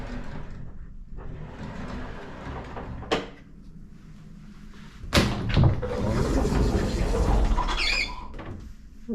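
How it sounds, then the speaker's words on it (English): A sliding door in a hotel room under renovation rolls open and shut, with a sharp clack or knock at each stop and a louder rumbling slide in the middle, close by and otherwise quiet. "Nice little touch here. Sliding door."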